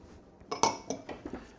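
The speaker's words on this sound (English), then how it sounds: "Now you want to take a fork and basically stir it up and mix it well" A fork stirs flour, garlic powder, onion powder, salt and pepper together in a bowl for jalapeño popper coating, giving a quick run of light, close metallic clinks and taps against the bowl.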